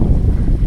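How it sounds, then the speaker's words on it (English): Steady low rumbling wind buffeting the microphone while sitting against a granite rock high in the Sierra mountains, a continuous close breeze roar with no voices. "Nice cool breeze."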